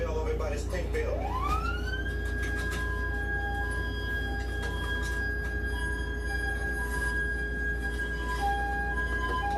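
A Long Beach police siren wails steadily and loudly during a pursuit, its pitch sweeping up at first and then holding a sustained tone over constant low traffic rumble, with voices in the background.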